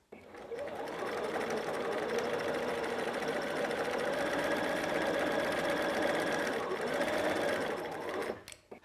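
A sewing machine runs steadily for about eight seconds, a close, continuous mechanical whir and rapid needle clatter that starts and stops abruptly, with no voices over it.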